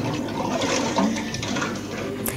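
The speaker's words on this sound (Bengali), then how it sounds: "তারপর হচ্ছে আমি প্লেটগুলো ধুবো।" Tap water runs steadily into a kitchen sink while pots and plates are washed by hand, a continuous splashing stream with occasional light clinks of dishes, close and fairly loud.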